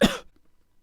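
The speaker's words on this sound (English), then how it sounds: "use trimming to remove this cough from the recording" One short, sharp cough, close and loud, cutting off abruptly and followed by near silence.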